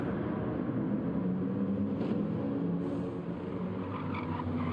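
Lexus GR3 race car engine in Gran Turismo 7, racing at Tokyo South, giving a steady, continuous deep drone throughout with little change in level.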